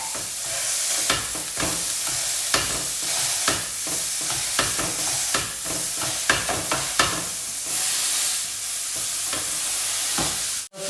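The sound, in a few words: beef patties frying in a pan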